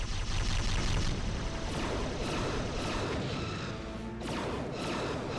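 Torpedoes firing nonstop during a starship battle in a Star Trek video game, a loud dense barrage of blasts, crashes and booms layered continuously with no pause.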